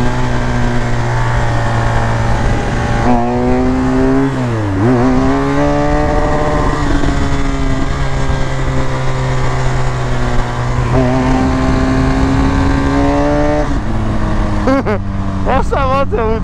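A BMW 1200 motorcycle engine drones steadily while riding, its pitch rising and falling as it revs up and eases off, with a voice talking over it.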